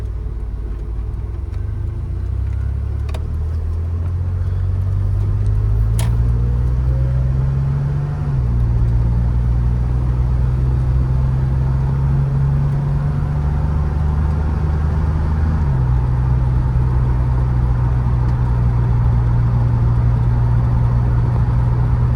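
A DeLorean car engine hums steadily while cruising, its low drone shifting pitch a couple of times as it changes gear, loud and close, no talking.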